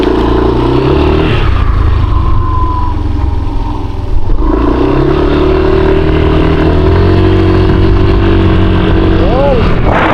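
A motorcycle engine on a ride in the Philippines, droning steadily and close throughout with a brief dip and shifts in pitch, under loud wind rush and some speech.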